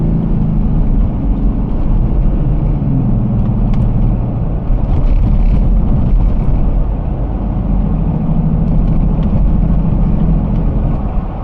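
A Jeep Gladiator pickup heard from the cab while driving along a rough road: a loud, steady low engine and tire roar with road rumble, constant throughout with a few faint knocks and rattles.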